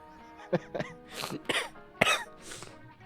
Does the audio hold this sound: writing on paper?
no